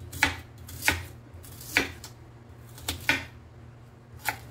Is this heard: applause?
no